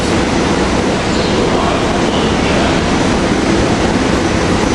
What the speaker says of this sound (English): Here we got the train coming in, Viewliner 5.